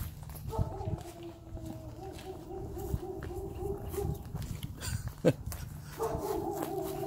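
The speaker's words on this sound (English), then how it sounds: "It's the neighbor's dog." A neighbor's dog barks and whines repeatedly at a house, sounding moderately distant and persistent, while people talk nearby.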